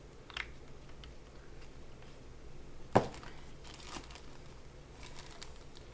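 Stampin' Up! Simply Pressed Clay, white, worked with ink inside a plastic bag gives sparse, quiet crinkles and rustles, with one sharp crackle partway through and no talking.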